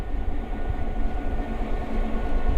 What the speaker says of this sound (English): We have an engine that's running